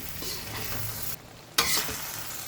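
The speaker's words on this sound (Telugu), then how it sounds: "ఇప్పుడు పచ్చిమిరపకాయలు వేస్తున్నాను, కలపండి" Green chillies frying in masala for pickle while being stirred, a steady close sizzle broken by a short quieter gap, then a louder burst of sizzling and scraping.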